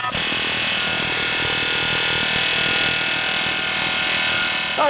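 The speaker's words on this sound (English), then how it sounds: "I nailed it with the air hammer" A pneumatic air hammer pounds on the front wheel bearing bolts of a 2010 Chevy Equinox in a garage, making a loud, continuous, high-pitched rattling buzz for the whole stretch.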